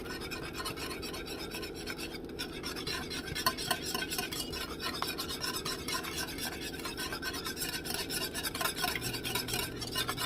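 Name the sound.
whisking cream cheese into sauce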